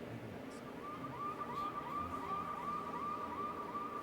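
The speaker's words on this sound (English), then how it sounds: "These sirens are grating" Sirens from a tabletop game session, a soft wavering electronic wail rising and falling steadily for several seconds beneath a muffled background of room noise.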